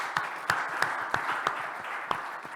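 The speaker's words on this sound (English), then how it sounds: "So let's applause to Zdravko." Applause from a small audience at a networking community conference, a steady patter of claps with a few sharper individual claps standing out, moderately near and lasting a couple of seconds.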